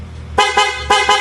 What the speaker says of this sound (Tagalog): Solid na solid tumunog yung busina.